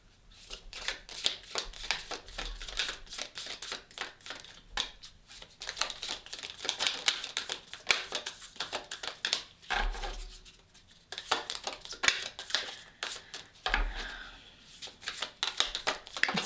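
Tarot cards being shuffled by hand, a close, soft, steady riffling and flicking of card edges with repeated short slaps and brief pauses, fairly quiet throughout.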